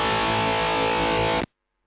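Harsh, buzzy distorted electric guitar played straight without any cabinet or speaker emulation, a sustained fizzy wall of tone that holds loud for about a second and a half, then cuts off abruptly to silence.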